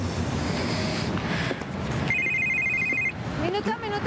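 Mobile phone ringing in a Colombian TV drama series, a steady electronic ring lasting about a second amid background noise, followed by a man's speech.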